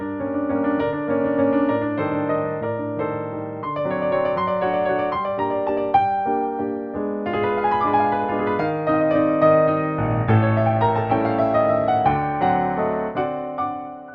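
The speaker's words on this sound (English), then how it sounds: "the legendary sound of the Bosendorfer Imperial, featuring a characteristic warm tone known as the Viennese sound" A Yamaha Clavinova CLP-635 digital piano, using its Bösendorfer Imperial grand piano sound, plays a slow, stately passage of rich, warm chords and melody, close and clear, with no voices.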